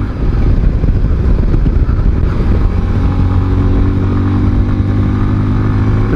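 Bajaj Avenger 220 BS6 cruiser motorcycle ridden on the road, its engine droning loud and close with a steady low rumble that settles into a smoother sustained tone as speed holds.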